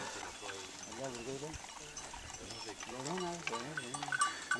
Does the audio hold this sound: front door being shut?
no